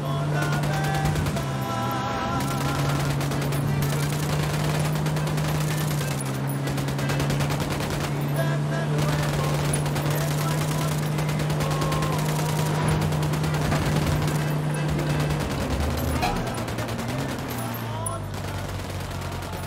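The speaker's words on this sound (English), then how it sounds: "I'm opening fire on these shitheads." Sustained automatic gunfire erupts in the Ghost Recon Wildlands video game in a dense, continuous fusillade, with voices talking over the shooting.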